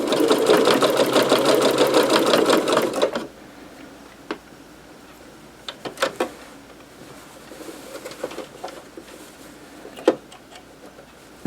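Sewing machine stitching a napkin toward the corner for an upcycled bag, a steady loud whirring run for about three seconds, then it stops, leaving quiet room noise with scattered soft clicks and taps.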